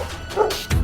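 A guard dog barks at a thief stealing a package from a doorstep, a couple of short barks over a noisy, muffled background.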